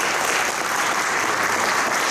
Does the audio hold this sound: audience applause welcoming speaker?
yes